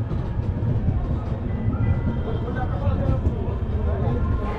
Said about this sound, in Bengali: তো আমরা কিন্তু চলে এসেছি দীঘাতে, মানে ট্রেন কিন্তু ঢুকছে দীঘাতে।